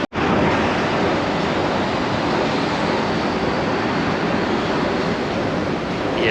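Sea surf along the shore of Hong Kong Island, a continuous loud wash of breaking waves with a faint wind rush, steady throughout with no voices.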